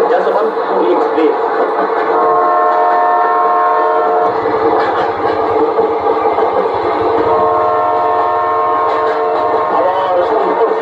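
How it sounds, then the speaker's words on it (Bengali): An express train, the Yesvantpur Express, approaching on the down line: a loud, steady rumble with long sustained horn tones layered over it, continuous throughout, with voices present beneath. "ঠিক একই সময়ে ডাউন লাইন দিয়ে এগিয়ে আসে যশবন্তপুর এক্সপ্রেস।"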